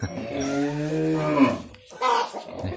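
Cattle at a Hmong village home mooing: a long, loud, close low moo, a brief pause, then a second shorter call, with no talking.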